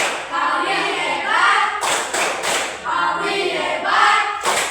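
Classroom of pupils chants together in unison while clapping in rhythm, sharp group claps and slaps punctuating the sung words at close range.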